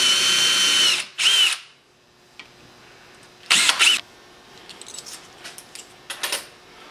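A drill countersinks holes in light-gauge aluminum picture-frame parts with scrap wood on top, sounding as a loud high whine lasting about a second, a brief second burst, another burst midway, then scattered short bursts and clicks.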